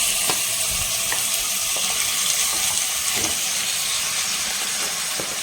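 Marinated chicken sizzles loudly and continuously in hot oil for a restaurant-style chicken roast, a steady frying hiss with occasional faint clicks and pops.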